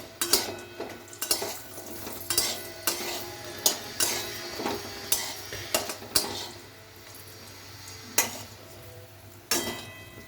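Repeated sharp metallic clinks of a utensil against a pan, in an irregular rhythm over a soft background sizzle, as lentil dumplings fry; no voices.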